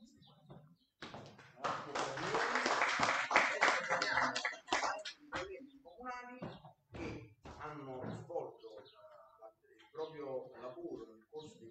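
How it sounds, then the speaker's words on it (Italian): Scattered clapping from attendees at a municipal council meeting in Puglianello, a brief patter of hands that fades quickly as voices take over and continue speaking. "un applauso"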